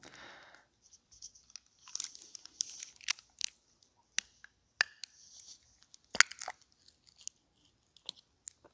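A thin plastic seal is peeled back from a prepackaged communion cup, giving scattered crinkly crackles and sharp snaps, close to the microphone, with quiet pauses between them.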